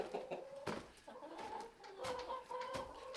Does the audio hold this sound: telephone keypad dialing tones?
no